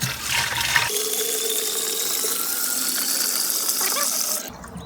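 Filtered water from a garden hose pours into a garden sprayer tank. It is a steady, hollow gushing stream that rises in pitch as the container fills, then cuts off near the end.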